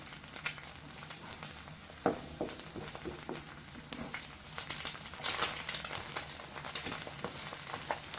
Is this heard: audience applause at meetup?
no